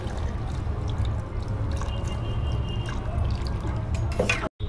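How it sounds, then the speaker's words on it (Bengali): Liquid poured into a simmering egg and potato curry in a pan, a steady wet trickle and bubbling sizzle running for several seconds before cutting off abruptly, with no voices. "এবার পরিমাণ মতো ঝোল বাড়িয়ে নিচ্ছি।"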